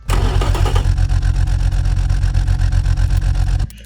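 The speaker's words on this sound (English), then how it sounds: "let's fire up this engine now." A Toyota 3FE six-cylinder engine in the Automation car-building game cranks and catches, then settles into a steady, loud, throbbing idle for several seconds before cutting off abruptly, with no talk over it.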